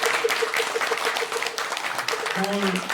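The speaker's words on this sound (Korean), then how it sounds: "함께 해주신 우리 큰 스님께 큰 박수로 환영해 주십니다" An assembly at a Buddhist dharma service applauds to welcome a senior monk, giving a soft, steady patter of clapping. A sustained tone runs underneath, and a brief voice or tone rises near the end.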